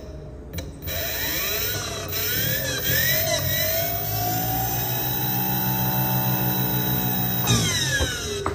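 A remote-controlled motor spins a basketball at low throttle, giving a close, steady electric whir whose pitch rises and wavers for about seven seconds before cutting off.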